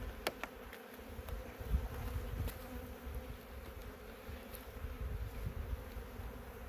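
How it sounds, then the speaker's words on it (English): Honey bees buzz around an open hive box during an April inspection, a steady dense hum close by with scattered brief sharper tones, with no talking. "I see lots of bees that are in my way"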